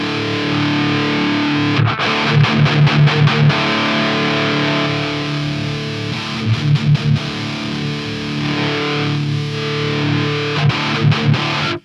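A distorted electric guitar runs through The King distortion plugin with the mids cranked and auto gain compensation on. It plays loud, sustained chords broken by bursts of tight, rapid palm-muted chugs, with no talking.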